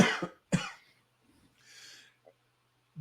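Two sharp, close coughs in quick succession, followed by a short raspy throat sound and a faint wet clearing, with quiet pauses between.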